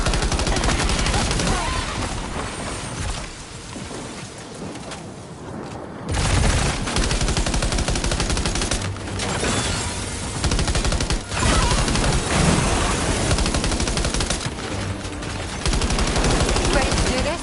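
Sustained automatic gunfire in the video game Death Stranding 2, loud rattling bursts with brief pauses between volleys, mixed with game sound effects and some voices speaking.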